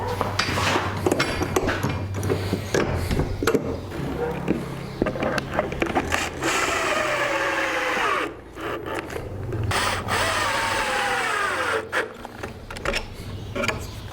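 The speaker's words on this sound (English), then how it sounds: "Using these wide boards, clamp it all together" Wooden face frames being clamped together with wide boards in a woodworking shop, making a busy run of knocks, rubbing and clattering tool handling that carries on without a pause.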